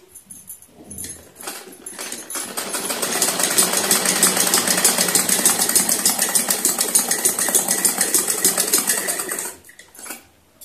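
A sewing machine stitches the seam of a semi-Patiala salwar in one steady, fast whirring run of about eight seconds, starting and stopping with softer bursts at either end, with no talk.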